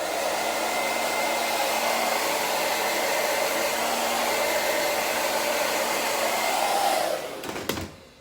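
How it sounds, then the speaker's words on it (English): A blow dryer drying hair runs as a loud, steady whoosh for about seven seconds, then cuts off and winds down, with a brief handling click near the end and no talking. "I don't really need a lot of the blow dryer"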